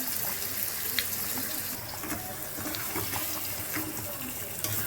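Water is poured into a pan of crab curry. A steady, fairly faint splashing pour runs evenly for the whole stretch, alone, with no talk.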